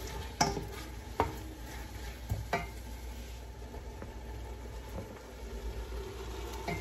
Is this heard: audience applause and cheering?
no